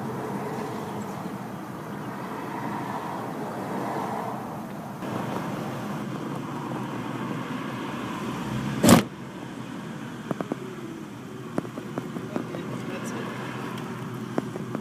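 A car engine idles steadily as it warms up, a low continuous hum with faint wind noise, a brief sharp knock partway through and a few light clicks afterward.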